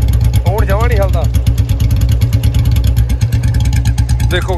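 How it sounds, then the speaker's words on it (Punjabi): Two Royal Enfield Bullet motorcycles idle side by side, one a new BS7 model and one an older BS4, with a loud, close, steady low thumping beat while people talk over it. "ਦੋਨੇ ਬੁਲਟ ਸਟਾਰਟ ਹੈ"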